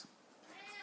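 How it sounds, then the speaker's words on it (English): House cat meowing for food, a single brief, faint meow. "Excuse the noise, that's my cat Lazy Bones asking for some food."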